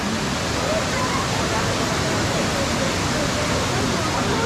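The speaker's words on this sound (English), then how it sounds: "I hope you guys can hear me above the sound of the waterfall." A waterfall roars steadily and loudly throughout, a dense, unbroken rush of falling water with no pauses.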